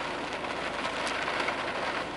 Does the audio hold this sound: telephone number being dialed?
no